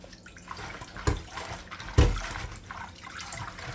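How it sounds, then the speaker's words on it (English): Callaloo leaves are shaken and swished in a bowl of salt water, giving sloshing splashes with two sharper plunges and trickling drips, close and fairly loud. "and shake it in the water."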